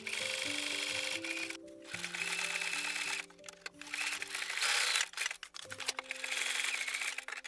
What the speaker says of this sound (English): I use a zigzag stitch and go slowly so that I don't end up breaking my needle.